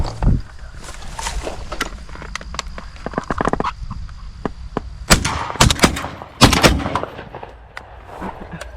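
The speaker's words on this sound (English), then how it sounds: "Good shooting." Shotgun blasts during a dove hunt, several sharp reports going off at irregular intervals, some close and loud, others fainter, over an outdoor background with no talk.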